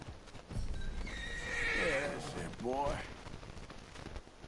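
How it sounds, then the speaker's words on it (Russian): Horse in the video game Red Dead Redemption 2 whinnying with a wavering neigh, heard alongside soft hoof sounds at moderate volume, with faint game background. "Подойдем к лошади."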